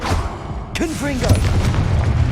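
Confringo blasting spell explosion in Hogwarts Legacy, a sharp boom that hits partway through, then a rumbling tail as a voice shouts the spell over game music and effects.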